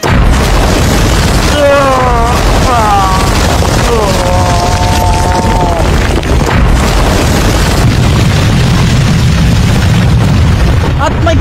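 A powerful punch lands in an anime fight, a heavy booming impact that stays loud and dense throughout, with sweeping tonal whooshes and voices layered over the roar.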